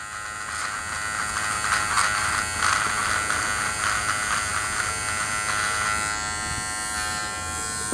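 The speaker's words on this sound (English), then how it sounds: "Now, I got the regular trimmer on" A GLAKER electric beard trimmer buzzes steadily up close as it cuts through a beard. The tone wavers slightly as the blades move across the hair.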